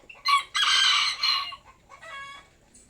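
Chickens cluck and crow loudly nearby in a backyard poultry area, with a rooster-like call in two strong bursts followed by a softer cackling phrase.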